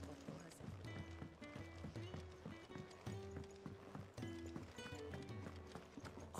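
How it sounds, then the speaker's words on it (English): Quiet rhythmic hoofbeats of a horse running in the video game Final Fantasy XVI, with faint whinnying and a low musical drone underneath. "It sounds like a horse."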